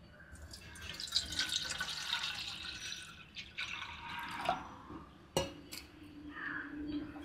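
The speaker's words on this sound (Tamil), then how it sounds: "இப்போ தண்ணியை ஊற்றி ராகி சேமியாவை கொஞ்சம் ஊற வச்சுப்போம்." Water poured over ragi vermicelli in a kitchen to soak it, a soft continuous splashing and trickling with scattered drips and a few light clinks of utensils, fairly close and without speech.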